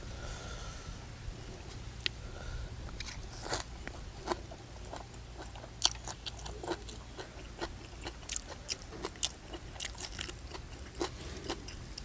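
Close, moist chewing and biting of raw beef at a rustic outdoor meal, with repeated soft crunchy bites and smacking in an uneven rhythm, no talking.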